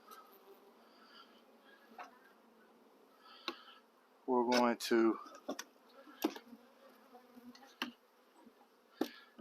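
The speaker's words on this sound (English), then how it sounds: "it's a good bit of bees, plenty of bees for this nook" Honeybees hum softly and continuously around a nuc hive outdoors, a faint steady drone with scattered clicks and brief louder buzzes as bees pass close; someone speaks briefly over it.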